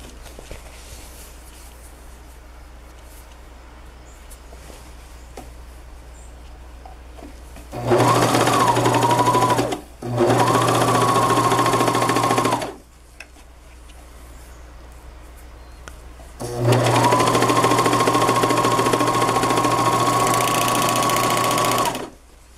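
Up close, a sewing machine stitches a Superman seam on a hoodie in three loud sustained runs with a steady motor whine, the first two split by a brief stop, after a quiet stretch with no speech.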